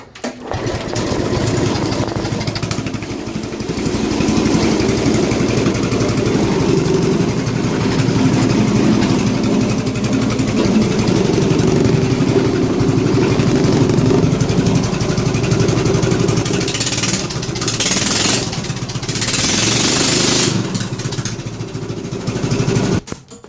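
A small GX engine on a homemade go-kart fires up and runs steadily, a loud, continuous buzzing idle with a low throbbing drone that holds for the whole stretch and wavers slightly near the end.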